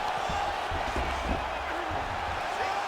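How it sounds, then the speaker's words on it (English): A virtual arena crowd in EA Sports UFC 5 roars steadily as two fighters get back to their feet after a grappling exchange, a dense continuous crowd noise with commentary voices over it. "huge pop from the crowd as the fighters get back up to their feet"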